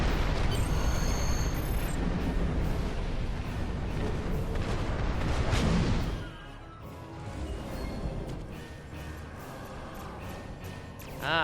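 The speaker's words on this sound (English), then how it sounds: "Use your torpedoes Firing when their shield is down." Starship torpedo fire in the space combat game Star Trek Online: a dense, loud barrage of booming blasts and crashing impacts for about six seconds, then dropping to a quieter rumbling, mechanical hum.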